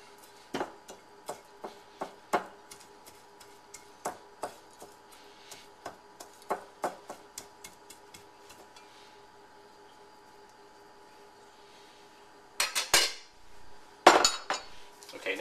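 Black beans mashed in a Pyrex dish with the butt end of a cleaver: a run of sharp, irregular tapping knocks against glass, then a quiet gap and a few louder clattering hits near the end.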